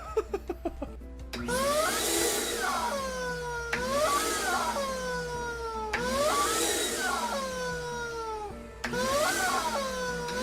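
Vacuum cleaner running steadily with a whining, warbling tone that swoops and repeats in cycles roughly every two seconds, loud and close, without any voices.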